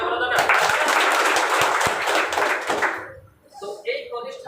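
Audience applause at a Vestige network marketing event, a loud dense burst of clapping that fades after about three seconds, followed by a voice speaking.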